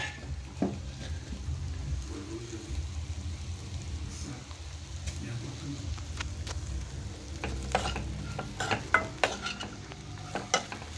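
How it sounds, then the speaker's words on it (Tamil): Okra stir-fry (vendakkai poriyal) sautés gently in a pan over low heat, a soft continuous sizzle with scattered spatula scrapes and metallic clinks, close but fairly quiet. "இது நல்லா சிம்மில் நல்லா வதங்கி வரட்டும்"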